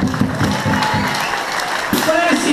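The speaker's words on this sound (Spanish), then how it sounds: "un aplauso enorme para lo que hay" Applause from a crowd at a murga performance, with a voice speaking over the clapping throughout and a brief louder swell near the end.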